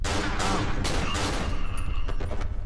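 Rapid, loud gunfire crackles in close succession in the survival horror video game Cry of Fear, a dense burst of overlapping shots lasting a few seconds with no voices.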